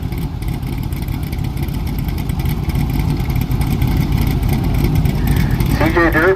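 A Chevrolet Nova drag car with a fresh dark cranberry paint job idling at an ice drag race, its engine a steady loud rumble throughout, with a commentator talking over it.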